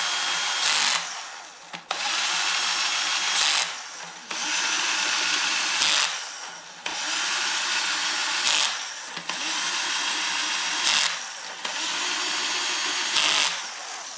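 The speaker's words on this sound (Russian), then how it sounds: "Так, теперь выставляем шуруповерт на 10 и еще раз подтягиваем" A cordless screwdriver tightening valve cover bolts on a Ford engine whirs in repeated high, close bursts, each run ending in a brief pause or clutch slip before starting again.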